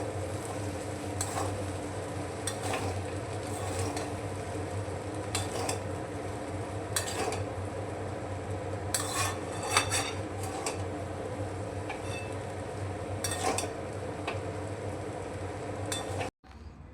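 Chicken chow mein is stirred and tossed in a pan over a steady sizzle, with repeated sharp clinks and scrapes of a utensil against the metal at an irregular rhythm, ending abruptly.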